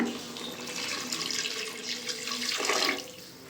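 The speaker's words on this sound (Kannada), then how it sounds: "ಇವಾಗ ನೀರು ಹಾಕ್ತಾ ಇದ್ದೀನಿ" Water streams steadily from a tap, splashing and filling a pressure cooker, swelling louder near the end before easing off.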